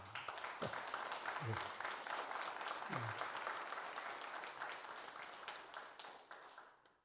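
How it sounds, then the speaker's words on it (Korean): Applause from an assembled congregation welcoming visiting monks at a Buddhist dharma talk at a Korean Seon temple, a dense, steady clapping that runs the whole stretch and fades slightly at the end. "환영의 말씀으로 박수를 드립니다"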